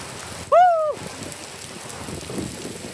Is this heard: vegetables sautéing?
no